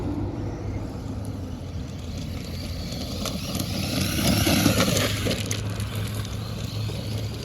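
Losi Hammer Rey RC crawler driven over rocks: a steady whirring motor drone with rising throttle and scattered clatter, fairly loud and continuous, no talk.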